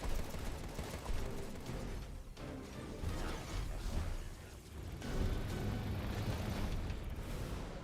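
Gunfire from automated shooting boxes in the video game Contra: Rogue Corps, a dense, continuous barrage of shots and blasts running the whole time, fairly loud and mixed with game noise.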